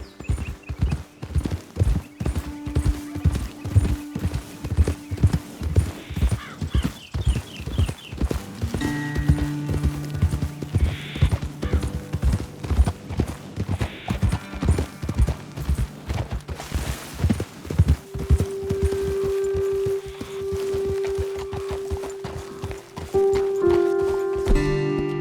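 Horses clip-clopping at a steady trot or gallop in Red Dead Redemption 2, the hoofbeats loud and close with a brisk, continuous rhythm, mixed with in-game music and an occasional snort or whinny.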